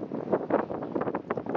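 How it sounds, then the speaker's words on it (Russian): Strong gusty wind along an open city boulevard, buffeting close to the microphone in uneven bursts that swell and drop. "О, какой очень сильный ветер."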